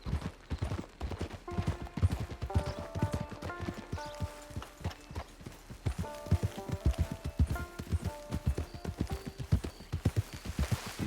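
Horse hooves clip-clop in the Red Dead Redemption 2 video game, a steady rhythmic trot of close, distinct hoofbeats over a game music bed, continuing throughout with no talk.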